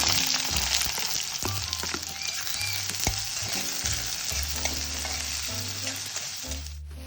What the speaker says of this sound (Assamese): গোটা জিৰাখিনি অলপ ৰঙা হোৱাৰ পিছত পিঁয়াজখিনি দি দিম।